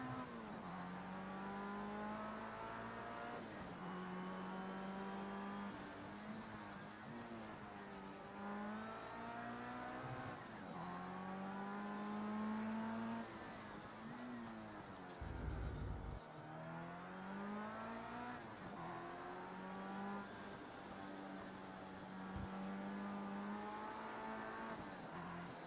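A race car in the Project CARS 2 video game accelerates through the gears at Long Beach. Its engine whines rise and drop again and again, with occasional tire squeal and no talk.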